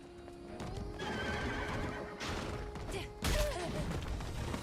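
A horse in a video game whinnies and neighs loudly, with clopping hooves and a crash-like thump partway through, all set in a dense game soundscape.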